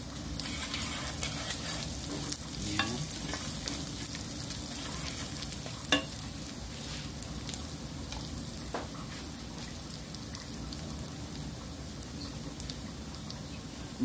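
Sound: beef cubes sizzling and stirred in fried rice pan

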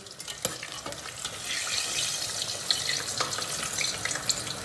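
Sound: eggplant frying in hot oil

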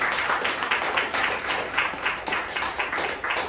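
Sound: congregation applauding after Bible reading

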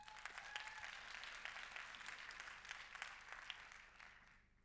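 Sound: audience applause for the pitches

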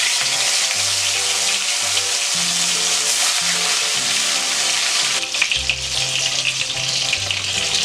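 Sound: koi fish frying in hot oil in a kadai

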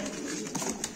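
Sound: pigeons cooing in a coop, tumbler pigeons

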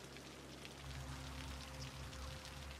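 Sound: rain in the video game Cities Skylines

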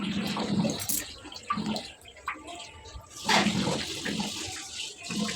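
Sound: water from a pipe filling a drum

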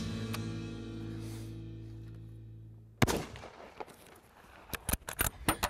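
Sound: rifle shot while checking the zero

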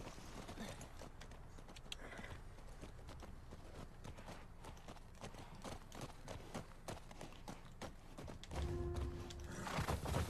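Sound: horse galloping in the video game The Last of Us Part II

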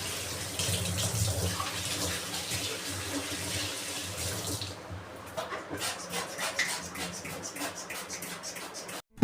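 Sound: water running while scrubbing a wash basin

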